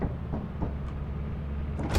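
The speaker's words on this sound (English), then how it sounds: "This is close the door." The ship door in the video game Lethal Company slides shut over a steady low mechanical hum, with soft knocks and a short hiss near the end.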